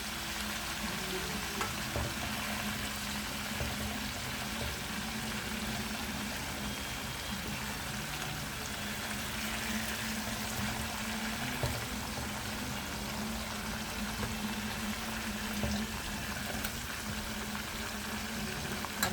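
Chicken drumsticks deep-frying in hot oil, Guyanese style: a dense, steady crackling sizzle with constant fine popping throughout, close and fairly loud, no voices.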